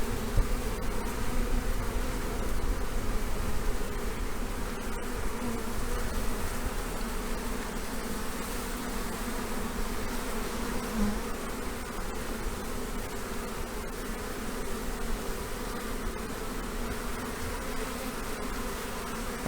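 A honeybee swarm being moved into a new hive hums as a dense, steady buzz of many insects, continuous and close, with no talking.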